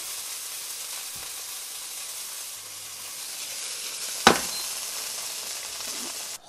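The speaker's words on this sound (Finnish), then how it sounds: "Siellä tirisee meidän vinksisoossi, hyvältä näyttää." Wing sauce sizzles in a pan while a burger cooks, a steady bright frying hiss throughout, close and fairly loud, broken by a brief clatter midway.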